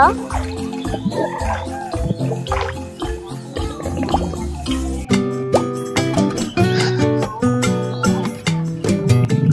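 Water scooped and splashed during doll play, with repeated close plops and gurgling pours mixed with clinking toy pots and a voice talking over it.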